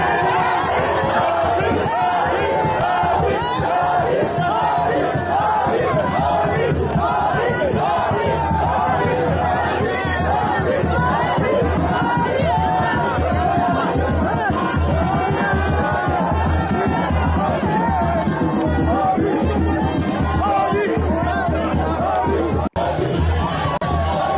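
Large crowd at a political rally in Ebonyi State, a dense continuous mass of voices chanting and calling out together, loud and sustained throughout with no single speaker standing out.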